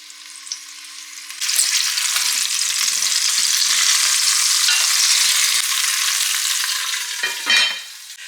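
Potatoes with a pinch of salt drop into a pot of cooking oil over medium-high heat, bursting into a loud, sustained sizzle after a quiet start, with a brief scrape or stir near the end and no voices.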